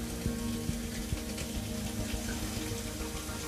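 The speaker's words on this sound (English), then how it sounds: "You'll want to make sure that you turn the faucet to hot" A bathroom faucet in a fifth-wheel trailer runs steadily, a constant close hiss of flowing water with faint clinks now and then, and no one talking.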